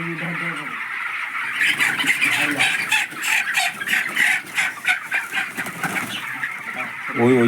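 Chickens on a poultry farm cluck and squawk steadily throughout, a dense overlapping chorus of birds at close range, with sharper calls rising near the start and end.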